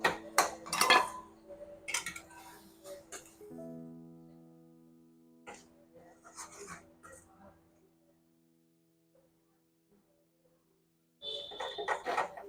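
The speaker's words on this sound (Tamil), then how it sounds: "எல்லாத்தையும் சேர்த்து நல்லா கலந்து விடுவோம்." Utensil clatter from mixing pulicha keerai thokku with jaggery and a roasted spice powder in a pot, several scraping and clinking strokes up close, then a quiet stretch with a faint hum before more clatter at the end.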